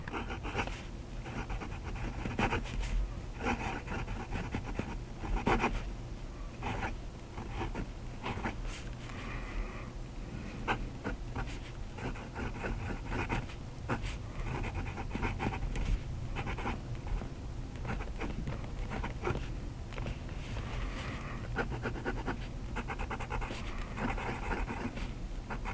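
Nib of a WingSung 629 fountain pen scratching across paper with wet, saturated ink, a steady run of soft, faint strokes and brief pauses, close up and without talk.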